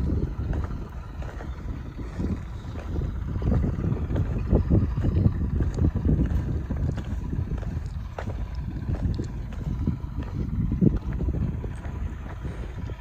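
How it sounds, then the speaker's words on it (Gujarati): A tractor pulling an automatic seed drill while sowing coriander in a farm field, a steady low engine drone with gusts of wind buffeting the microphone. "મોટા બાબુ બેઠા છે ટ્રેક્ટરમાં"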